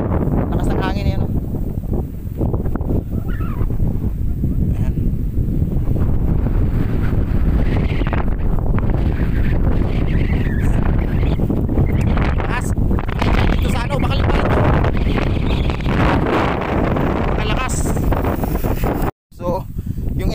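Strong wind blows across an open farm hill in Bulacan, roaring and buffeting the microphone loudly and without pause, with a person speaking underneath the gusts.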